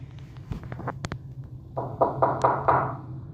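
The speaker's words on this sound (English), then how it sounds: "I hear knocking again." A series of sharp knocks, some scattered and then a quicker run of louder thuds, over a steady low hum.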